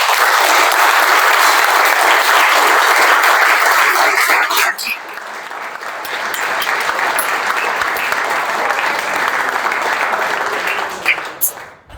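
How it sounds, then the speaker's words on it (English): A crowd applauds loudly and steadily, dips briefly midway, then swells into sustained clapping again before fading out. "now I want everyone to clap as loud as possible."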